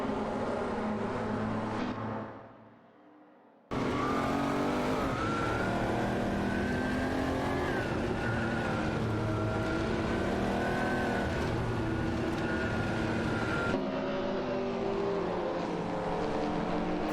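Porsche 959 race cars in a video game race roar with steady, loud engine tones that rise and fall through the gears, with the sound briefly dropping out before resuming.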